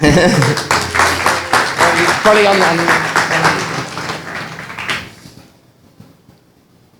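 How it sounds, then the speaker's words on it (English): An audience at a Medellín event applauds as a speaker is welcomed onstage, with loud clapping over a few voices that fades out after about five seconds. "Daniel Vasquez, welcome to the stage. And round of applause, please."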